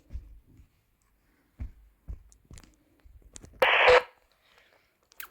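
Walkie-talkie output with scattered faint voice-like fragments and short crackles, then a loud burst of radio static near the end, sparse and quiet overall.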